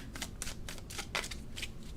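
A tarot card deck is shuffled in quick riffling bursts, several short papery ruffles in an irregular rhythm, close and fairly quiet with no talking.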